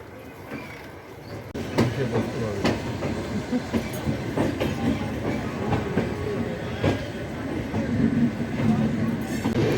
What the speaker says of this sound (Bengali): রাত 12:30টার সময় আমাদের ট্রেন ঢুকে গেল বর্ধমান জংশনে।